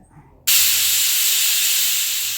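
Loud steady steam hiss bursting from a pressure cooker on a stove as jackfruit seeds cook, starting abruptly after a short quiet moment and holding strong without fading.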